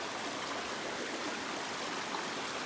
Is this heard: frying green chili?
no